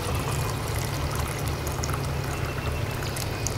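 Two cups of water poured into a metal canteen cup for camp cooking, a continuous close splashing pour with a steady trickle running throughout.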